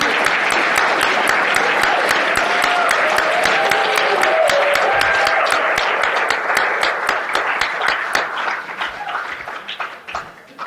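Sustained audience applause for featured poets at an outdoor poetry and barbecue event, dense clapping throughout with sharp individual claps standing out, voices and cheers mixed in, gradually thinning and fading toward the end.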